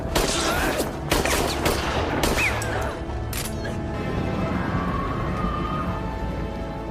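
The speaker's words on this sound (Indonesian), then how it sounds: "menembaknya berkali-kali dengan menggunakan pistol yang tergeletak di lantai" A pistol fires repeatedly in a film scene, a burst of loud sharp shots packed into the first few seconds, then a lingering echoing tail with a faint high whine.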